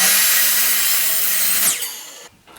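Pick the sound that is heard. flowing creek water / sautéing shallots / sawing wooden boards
sawing wooden boards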